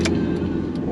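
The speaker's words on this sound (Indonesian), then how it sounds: "ngeri ada mobil dari depan" A car engine drones close by on a steep uphill provincial road between Bandung and Tasikmalaya, a steady mid-pitched hum heard alone.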